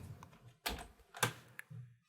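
Typing on a computer keyboard at a desk: a few sparse, sharp key clacks and thumps, close and fairly quiet, with pauses between strokes.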